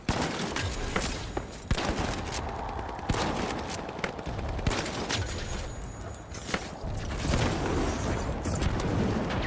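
Rapid repeated shotgun blasts from the Model 1887 lever-action shotgun in the first-person shooter game The Finals, loud and close, mixed with other gunfire and explosions in a busy match.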